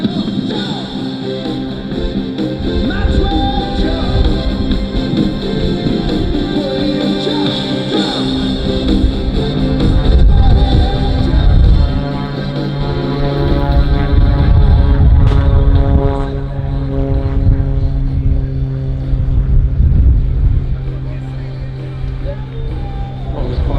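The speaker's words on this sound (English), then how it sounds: "He'll get the aircraft down nice and low in a side slip." An aerobatic display aircraft sideslips low past the show line at the Avalon Airshow in 2017, its engine drone loud and steady with swelling passes, under heavy public-address talk and crowd ambience.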